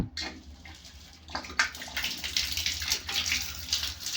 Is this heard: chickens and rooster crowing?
no